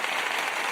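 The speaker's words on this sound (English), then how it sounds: "Applause for that one." A short burst of dense, even clapping applause from a group, steady and fairly loud, lasting under a second.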